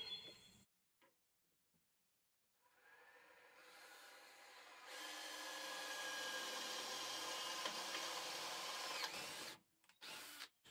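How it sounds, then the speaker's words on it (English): After a few quiet taps, a power drill whirs steadily for several seconds as it bores into wood, then stops, with brief handling noises after. "this drill bit's working pretty good"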